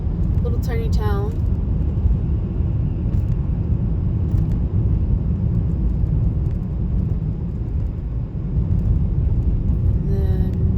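Car driving along a rural road at night past farmland, a steady low engine and road rumble throughout with someone talking over it.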